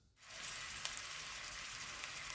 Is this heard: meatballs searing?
yes